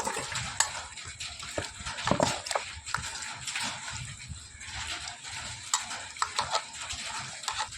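Hands mixing biryani ingredients in a pot at home, with steady wet squelching and scraping stirs and occasional clinks of utensils, close and fairly busy throughout.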